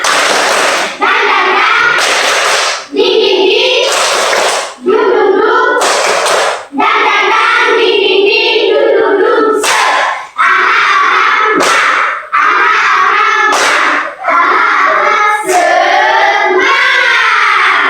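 A class of students performs a rhythmic spirit clap in a school classroom, bursts of loud group clapping repeating in a steady patterned sequence roughly every two seconds, with brief pauses between rounds and some voices mixed in.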